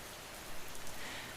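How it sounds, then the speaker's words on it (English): Steady autumn rain falls in a constant soft hiss with scattered droplet patters, gentle and even throughout and free of any voices. "let the rain do what it does best"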